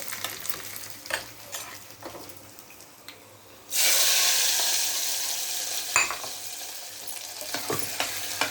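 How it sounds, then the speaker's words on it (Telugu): Fried tempering of seasonings browned in oil is poured into gongura dal, setting off a sudden loud, steady sizzle that fades slowly, after quieter stirring and kitchen clatter. "ఈ పోపుని మనము పప్పు కట్టు తీసాం కదా అందులో కూడా యాడ్ చేసుకోవాలి"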